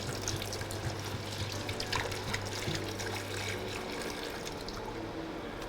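Leftover red wine poured into a pot of braising beef, a close, steady liquid trickle and splash for several seconds, gradually thinning out toward the end.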